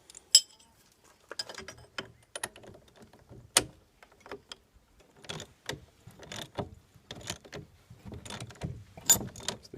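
An exhaust blow-out kit fitting being tightened with a spanner and a 27mm socket gives sparse metallic clicks, taps and scraping clunks at an irregular pace, close by and fairly quiet, with no talking.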